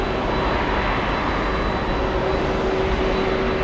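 A Boeing 767-400 airliner at JFK airport gives off a steady, continuous engine roar with a faint whine, close and loud throughout with no talking.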